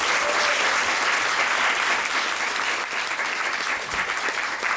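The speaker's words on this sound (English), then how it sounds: "So please give her another round of applause." An audience applauds after a stage performance in a dense, sustained burst of clapping from many hands, loud and close, holding steady throughout without talking.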